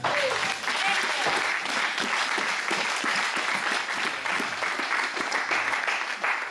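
Sustained applause from a church congregation fills the space, steady and dense throughout, with scattered claps and crowd noise and no clear speech on top.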